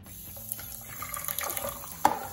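Warm tap water runs steadily into a sink to wet a makeup brush being washed with cheap unscented soap, a close, continuous splashing flow with a few brighter drips near the end and no talking.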